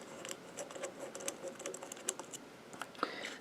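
Quiet clicking and light scraping as screws are loosened and removed from a lightsaber's hilt, small metallic ticks and taps in an irregular patter at close range.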